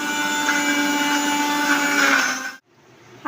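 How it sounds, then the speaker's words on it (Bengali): A mixer grinder whirs steadily as it blends a green bean paste, a loud continuous motor drone that cuts off abruptly near the end before a brief restart. "মিক্সির ঢাকনাটা আটকিয়ে দিয়ে এবার কিন্তু ব্লেন্ড করে নেব"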